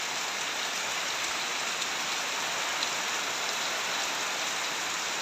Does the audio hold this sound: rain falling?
yes